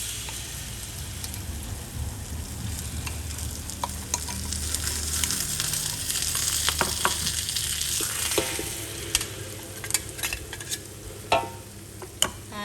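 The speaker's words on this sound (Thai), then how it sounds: "เคี่ยวไปจนกว่าน้ำตาลจะเหนียวนะคะ" Sugar, fish sauce and water simmer together in a pan for a crispy Thai shell snack, giving a continuous close bubbling sizzle with occasional sharp ticks and stirring scrapes.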